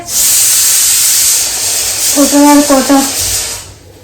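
A kitchen pressure cooker whistle blows, releasing a loud, sharp hiss of steam that holds for over three seconds before cutting off, with a wavering tonal whistle near the end.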